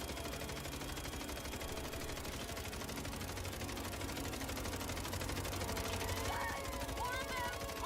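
Rapid, continuous automatic gunfire from an infinite-ammo weapon in the video game MindsEye, a steady stream of shots with no reload pause and faint background sounds.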